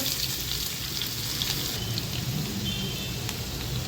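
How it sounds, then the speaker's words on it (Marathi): Mustard seeds, a little cumin and crushed garlic crackle and sizzle in hot oil, a continuous close hiss with fine popping throughout and no voices. "तेल चांगलं गरम झालेलं आहे मी मोहरी टाकते थोडेसे जिरे ठेचून घेतलेला लसूण"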